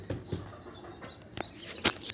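Ducks and ducklings kept apart in a pen, a few short, faint calls and peeps scattered across a couple of seconds.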